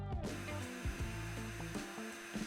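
A router cuts mortises into wood for a bent-lamination lamp: a steady, loud, high motor whine whose pitch dips and recovers several times as the bit bites, with no voices.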